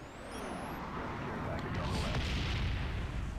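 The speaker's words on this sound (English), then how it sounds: "the napalm kills me again" A napalm strike in Call of Duty: Black Ops multiplayer sets off a broad, low roaring explosion that swells and sustains as a rumbling wash, moderately quiet in the mix.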